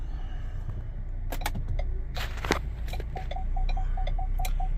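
A 2019 Ford Edge Titanium with its check engine light on idles with a steady low hum while being backed out, accompanied by a few clicks and clunks and then a regular series of short reversing chimes.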